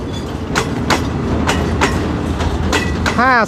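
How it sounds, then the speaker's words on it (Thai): Freight train 632 rumbles past close by at a station with clickety-clack wheel noise, ending in a squeal of metal wheels. "ผ่านพ้นไปนะครับสำหรับขบวนรถสินค้าที่ 632"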